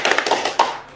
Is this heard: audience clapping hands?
yes